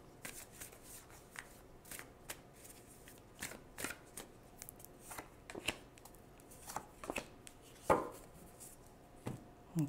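Tarot cards are shuffled by hand in repeated soft riffling bursts and crisp slaps, close and quiet, with irregular rhythm and no talking.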